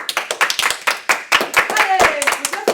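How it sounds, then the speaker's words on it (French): A small group claps for themselves at an end-of-year activity gathering, sharp uneven hand claps close by with cheering and talk mixed in. "Voilà, je pense qu'on peut s'applaudir."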